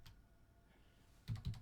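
Soft keystrokes on a computer keyboard, a quiet stretch followed by two close, distinct key taps near the end.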